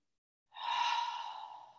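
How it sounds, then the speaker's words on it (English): A single slow, soft exhale during a quiet yin yoga session, breathed out close and gently fading away. "I'm breathing in and I'm breathing out"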